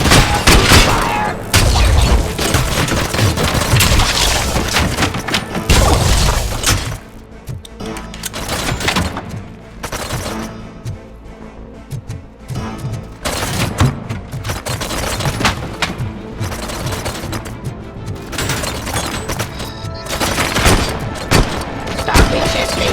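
Heavy gunfire in Robocop: Rogue City, long bursts of loud automatic shots with booming impacts. The shooting is dense at first, drops back briefly, then returns in repeated volleys.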